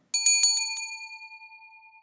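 A butler's bell rings with a few quick bright strikes, then its clear tone lingers and slowly fades, close and alone with no voices.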